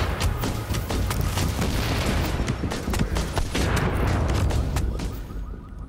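Mortar fire in the video game The Division: a dense, continuous barrage of heavy booms and blasts, loud and close, with no talk over it.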